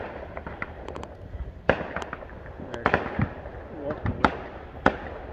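Fourth of July fireworks popping and cracking at a distance, a string of irregular sharp bangs and crackles over several seconds, some louder than others, with a voice talking at times among them.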